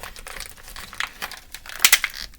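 A Masters of the Universe Turtles of Grayskull Skele-Shredder action figure is cut free of its plastic packaging. Close, scratchy crinkling and snipping come in uneven bursts, with a couple of sharper crackles near the end and no talking.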